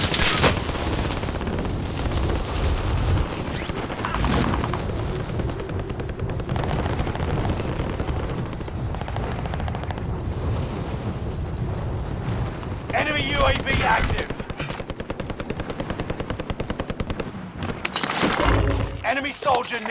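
Call of Duty: Modern Warfare Plunder match with loud, sustained gunfire and bursts of automatic fire close by, mixed with blasts and a voice speaking throughout.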